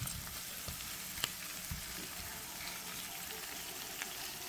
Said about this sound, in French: Et lorsque ma viande est en train d'être dorée comme je veux,